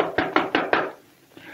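Four firm knocks on a door in quick, even succession, close and loud, followed by a faint fifth tap after a short pause.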